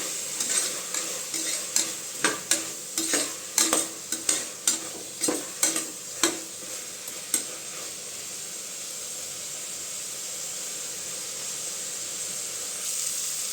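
A spoon stirs and sautés vegetables with curd and chili powder for Tamil vegetable rice, making a run of rhythmic scraping strokes over a steady, loud pan sizzle that keeps hissing after the stirring stops.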